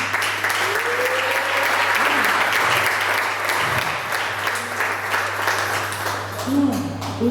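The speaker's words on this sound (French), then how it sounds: "On peut acclamer pour le frère." Church congregation applauding with steady, sustained clapping that fills the whole stretch, with voices audible through it.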